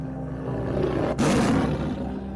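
A tiger roaring as a sound effect in a Thai spoken story, loud and close, a long sustained growling roar with a brief break midway, heard alone without talk.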